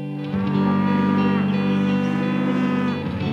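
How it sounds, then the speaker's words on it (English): Cattle mooing loudly in a long, sustained low call from a single nearby animal, as cows and calves call to find each other on a farm, with no one talking. "All this mooing."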